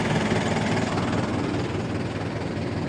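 A tractor engine idles on a highway stop, a steady low, rough rumble with a faint knocking pulse. It runs continuously and fairly quietly, with no talking.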